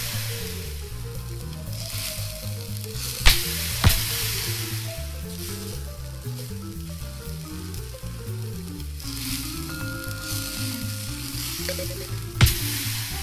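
Burgers sizzle on a griddle in the cooking game Cook, Serve Delicious, a continuous frying hiss over a looping melodic game tune, with a few sharp clicks from play.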